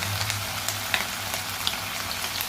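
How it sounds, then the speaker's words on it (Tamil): Chicken pieces for chicken 65 fry in hot oil in a kadai with a dense, steady crackling sizzle. A few brighter pops sound close by, and there is no talking. "எண்ணெய் நல்லா காஞ்சிக்கணும் கறியை போட்டுக்கலாம் கறியை போட்டு நல்லா வதக்கலாம்"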